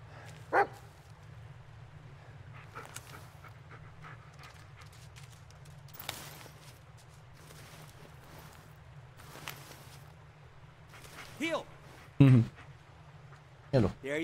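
A dog in the Blair Witch game gives a few short, sharp barks near the end, set against a steady low hum, faint thuds and footsteps.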